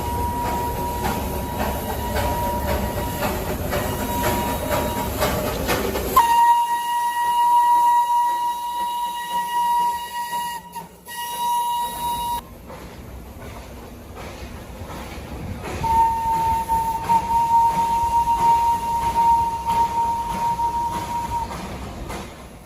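A Darjeeling Himalayan Railway train whistle sounds as the train departs: a long, loud, steady blast that is held for several seconds and then a second sustained blast. Both ride over the rumble of the rolling rail cars.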